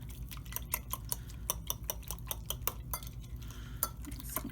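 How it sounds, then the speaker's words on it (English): A fork mixes food in a bowl, a quick run of sharp metallic taps and scrapes against the dish, close and quiet, with no talking. "I like mixing with the fork. It seems to get all the lumps out."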